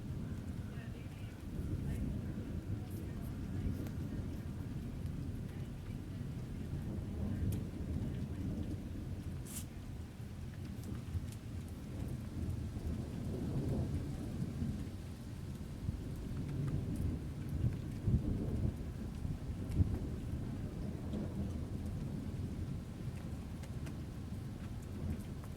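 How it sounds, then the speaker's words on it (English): Steady rain keeps falling on a mountainside near Kings Canyon during a summer thunderstorm, a constant low wash of sound with faint distant rumbles that swell at moments. The rain grows heavier through the stretch, and a few brief voices come in under it. "It's still raining, starting to come down a little harder."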